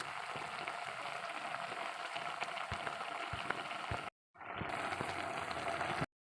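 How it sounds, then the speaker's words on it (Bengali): A pot of potatoes in salted water bubbles on the stove with a steady, hissing, rain-like simmer and scattered small pops, cut by a brief dropout before the bubbling resumes. "আমি সিদ্ধ করতে বসিয়ে দিচ্ছি একটু নুন দিয়ে"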